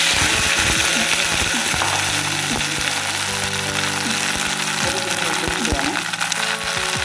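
Chopped okra frying in a pan for an okra curry, giving a steady broadband sizzle with clinks and scrapes of stirring throughout, while a voice talks faintly over it.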